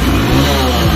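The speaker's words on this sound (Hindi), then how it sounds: "पहले बाइक को मैं स्टार्ट कर लेता हूँ इग्निशन ऑन करने के बाद" A Hero Splendor Plus motorcycle engine with a misfire and poor mileage caused by its air filter, revving up in short rises and dips at close range, loud and steady with no talking.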